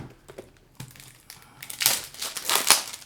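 Product packaging for a Brotac Gear Sleek Pouch MaXcro being cut open and unwrapped, with faint scattered clicks first, then louder close crinkling, rustling and tearing of wrapping toward the end.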